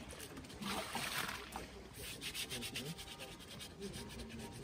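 A recovered bronze bell, buried since 1941, is scraped and cleaned by hand: faint, close, repeated rasping strokes over its surface, with people talking quietly in the background.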